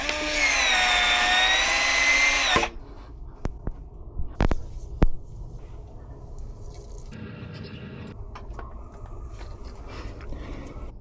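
PVC pipe being cut for a single-speed pool pump install. A loud high whirring burst is followed by a few sharp clicks and knocks, then quieter handling noise.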